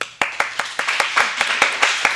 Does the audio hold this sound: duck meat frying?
no